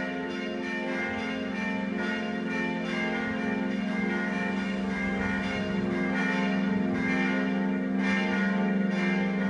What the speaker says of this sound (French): Et puis pour le glas, voilà ce que ça donnerait.